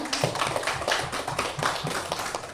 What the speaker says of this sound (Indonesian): kita beri aplaus dulu untuk Ibu Rina